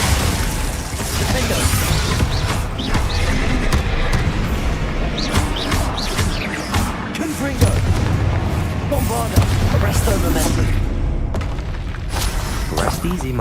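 Spell blasts and explosions from the Hogwarts Legacy video game fire off in loud, rapid bursts, one booming impact after another over a dense, continuous game soundtrack, with a voice shouting incantations between them.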